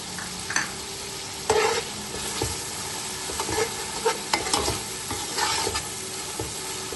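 Roasted eggplant sizzles softly in a pan as cumin seeds go in, with quiet stirring and small scrapes and clinks over a steady frying hiss.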